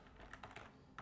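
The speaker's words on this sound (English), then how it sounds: "So we're going to start typing right here" Typing on a computer keyboard, a brief burst of several light key clicks, close and quiet, with no talking.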